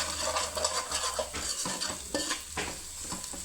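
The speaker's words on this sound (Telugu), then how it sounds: "ఇవన్నీ అల్లం పేస్ట్ పచ్చి వాసన పోయే వరకు వేయించుకోవాలి." Ginger paste and spices frying in a pan with a steady sizzle, as a utensil stirs and scrapes against the pan in quick close strokes, with no talking.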